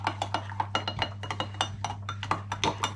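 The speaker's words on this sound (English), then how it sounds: "I think Delilah nicked the cutlery." Cutlery clinks and clatters in a household kitchen, a quick irregular series of light metallic taps over a steady low electrical hum, fairly close and moderately quiet.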